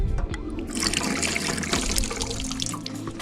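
Water drains from a simple pipe at a campsite, a close steady trickle and gurgle that continues for the whole stretch with no voices.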